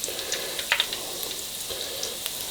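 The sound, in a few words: peanut butter bread frying in oil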